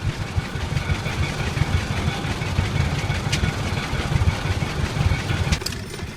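An antique tractor engine runs steadily at an outdoor gas engine festival, a dense low rumble with a knocking pulse throughout, close and continuous with faint background chatter.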